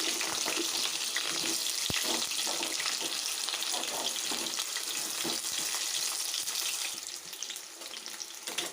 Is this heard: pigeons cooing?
no